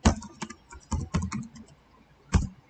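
Quick bursts of keystrokes on a computer keyboard, several clusters of clicks with pauses between, close and clear.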